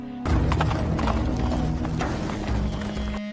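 Horses' hooves clop in a steady, continuous rhythm as riders hurry toward the capital. The sound is loud and sustained, with mechanical rattling mixed in.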